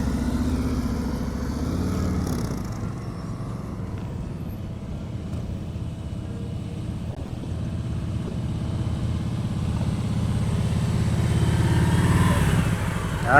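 A motorcycle rolls through slow-speed practice drills on a riding course in Georgia, its engine a steady low rumble throughout that swells slightly toward the end, with throttle and clutch changes and no talk.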